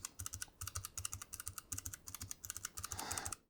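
Rapid typing on a Keychron K8 Pro mechanical keyboard with brown, red and blue switches, a dense run of crisp clicky keystrokes in uneven bursts, close up with no voices.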